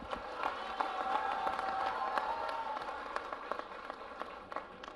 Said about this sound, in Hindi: तालियां बजा दो फिर आप।